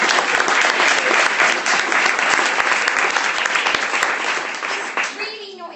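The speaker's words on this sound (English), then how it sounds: "I'd just like us to all give the panel a really big clap for being so wonderful." A conference audience claps for a charity meetup panel, steady dense applause filling the room for several seconds before tapering off at the end, with a voice starting to speak as it fades.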